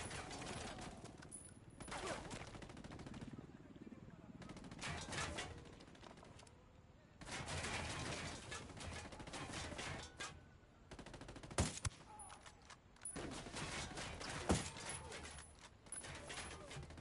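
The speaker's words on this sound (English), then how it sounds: "Got a mounted weapon." A mounted machine gun fires in Ghost Recon in several sharp bursts of rapid shots separated by short pauses, loud and close, with faint voices between volleys.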